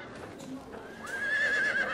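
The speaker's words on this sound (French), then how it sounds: "des hennissements." Live horses neighing inside a large white gallery room where twelve horses stand tethered in a row as an art installation; a drawn-out whinny rises in the second half over a murmuring room background.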